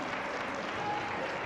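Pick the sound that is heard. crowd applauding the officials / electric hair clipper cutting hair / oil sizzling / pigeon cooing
crowd applauding the officials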